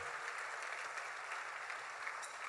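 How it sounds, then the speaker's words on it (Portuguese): A church congregation applauds for Jesus during a worship service, a steady, even patter of many hands clapping that stays soft and somewhat distant throughout. "Aplauda Jesus"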